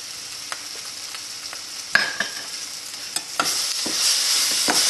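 Onion sambol sizzling in a pan while a spoon stirs it with sugar, making a steady hiss punctuated by scraping clicks and knocks against the pan, close up with no talking.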